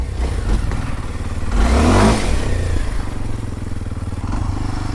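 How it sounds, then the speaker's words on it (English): A Kawasaki KLX 230 Supermoto motorcycle idles with a loud, close putter, then revs up sharply in a single rising burst before settling back to a steady idle. "this is a KLX 230 Supermoto"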